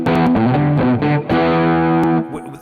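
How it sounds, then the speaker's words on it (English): Electric guitar played through heavy distortion, loud sustained chords and riffs with several sharp changes, close and alone without talk. "focus so many other aspects of music by using the guitar with distortion"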